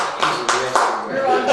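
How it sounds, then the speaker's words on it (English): A handful of separate hand claps sound close by at a city Board of Works meeting, spaced unevenly over a short moment while people keep talking. "We want us to pause for just a minute to just clap."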